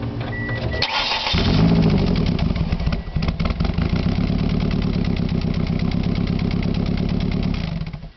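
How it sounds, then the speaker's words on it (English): A car with a damaged exhaust cranks briefly and fires up, then settles into a loud, rough, rhythmic idle heard close by from outside the vehicle. "I'm going to start the car, and you're going to hear exactly what it sounds like from the outside."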